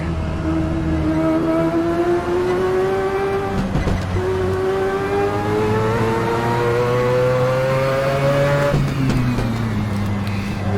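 A race car engine at Le Mans climbs through the gears onto the Mulsanne straight in a racing video game, with loud sustained revving, two clear upshifts where the pitch drops and then climbs again, and no talk.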